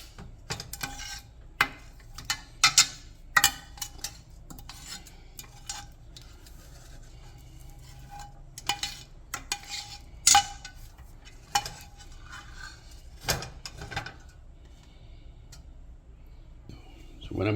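Utensil scraping and clinking inside a 3-quart cast iron Dutch oven to get the last of a spaghetti meat sauce out, irregular close metallic taps and scrapes with quiet pauses between, and faint talk in the background.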